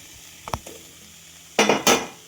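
Washed ash gourd pieces go into a hot pan for a Kerala pulinkari curry: a light clatter, then two loud hissing bursts as the pieces hit the hot surface, heard close with no voices.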